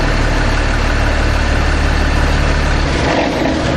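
A fire truck engine idles with the pump switched off, a steady low diesel rumble holding close and even throughout with no voices over it.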